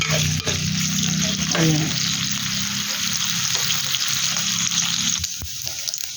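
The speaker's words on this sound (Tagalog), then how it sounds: "At dito ay tutost ako ng konti itong konting karne para gusto kong palabasin ang kanyang mantika dito." Meat frying in a pan to render its fat makes a steady, loud crackling sizzle with occasional stirring clatter, and a voice is heard briefly.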